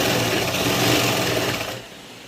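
An electric sewing machine stitching trousers runs in a fast continuous whir, close and loud, then stops abruptly near the end.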